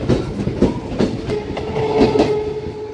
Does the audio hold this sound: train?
yes